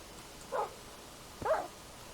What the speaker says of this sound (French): Enfin, mon chien.